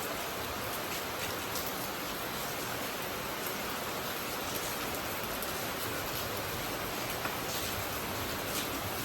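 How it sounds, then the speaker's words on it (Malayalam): Heavy rain pours in a dense, steady wash of hiss, constant and enveloping, with no voices over it. "നല്ല മഴയുണ്ട് കേട്ടോ"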